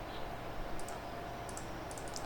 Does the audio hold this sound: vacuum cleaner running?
no